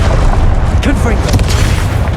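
In the video game Hogwarts Legacy, a Confringo fire spell explodes in a booming, rumbling blast amid dense, loud game effects and battle noise, with a voice present in the mix.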